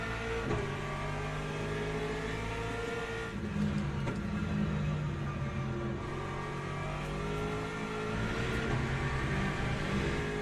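A race car engine in the Le Mans Ultimate racing game revs hard and steadily, a loud continuous drone that rises and falls in pitch with shifts throughout, with no voices over it.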